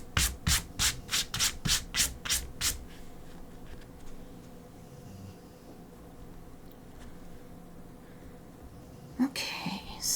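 Scraping strokes on a griffin artwork, highlights scratched into the surface: about nine rhythmic, close rasping strokes in quick succession, then quiet, with one more brief scrape near the end.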